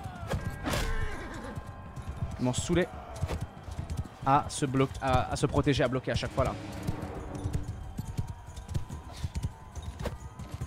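Galloping horses pound in clattering hoofbeats with an occasional whinny during a mounted tournament fight in the game Bannerlord, with impacts and clashes mixed in while someone talks throughout.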